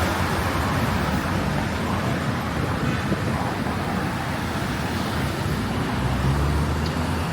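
Street traffic in Bangkok, with passing cars such as Hondas, Toyotas and MGs, forms a dense, continuous roadway roar with broadband rumble and no distinct voices.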